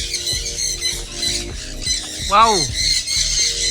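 Breeder eclectus parrots give loud, harsh repeated squawks close by, with one rising-and-falling shriek standing out, while a voice briefly exclaims over the birds.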